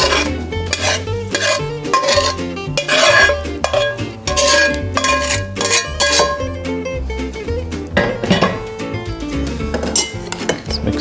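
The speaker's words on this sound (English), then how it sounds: "Mix this up, combine all the ingredients, get all that broth softening" A spoon scrapes and clinks against a bowl while cornbread dressing is mixed with broth and sautéed ingredients, repeated loud stirring knocks and wet scraping with no talk.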